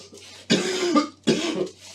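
A patient gives a pair of close, forceful coughs during a medical examination, the first longer and rougher, the second following after a brief pause against near silence.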